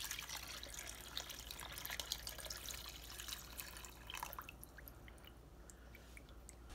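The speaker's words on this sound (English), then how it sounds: "Let me add some more water so that the pod can be entirely pushed into the water." Water poured into a container over a dry luffa ridge gourd pod, a faint, continuous splashing trickle that turns to scattered drips and small bubbling toward the end, no voices.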